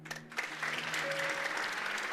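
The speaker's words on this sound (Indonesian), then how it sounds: "Tepuk tangan." Church congregation applauding during a sermon at GSKI Rehobot, a dense, steady clapping that swells quickly and holds for about two seconds, with a faint voice at the start.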